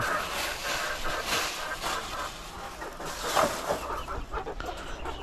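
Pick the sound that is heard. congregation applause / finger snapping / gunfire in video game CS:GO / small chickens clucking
small chickens clucking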